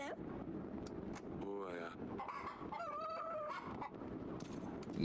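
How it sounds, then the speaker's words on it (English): A black rooster in a video game crows in drawn-out, strained calls in the middle of the stretch, standing out over a dense background of game noise. "Then there's that black rooster."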